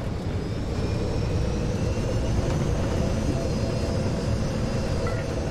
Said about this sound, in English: Hyena bombers have initiated an attack run.